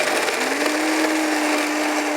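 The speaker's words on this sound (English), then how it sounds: "And we're just going to blend it in the blender." A kitchen blender grinds cashew nuts with nutritional yeast flakes, a loud, steady motor whir whose pitch rises and settles as it spins up, heard close and alone.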